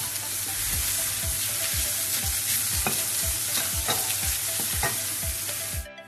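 Garlic and onion sautéing in a pan for cauliflower fried rice, a steady close sizzle broken by regular scraping strokes of a spoon stirring about once every half second, with no talking.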